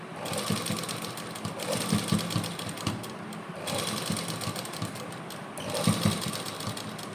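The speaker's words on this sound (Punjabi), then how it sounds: "ਤੇ ਫਿਰ ਆਪਾਂ ਸਲਾਈ ਲਾਈ ਜਾਣੀ ਹੈ" A sewing machine stitches lace onto a kameez in fast, steady runs, pausing briefly between bursts, close and clear.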